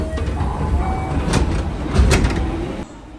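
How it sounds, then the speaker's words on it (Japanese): A train pulls in at the No. 2 platform of Akashi Station on the electric line, a continuous rumbling roll with rising swells of squeal and rattle before dropping to quieter hum as it stops. "列車は明石駅に到着。"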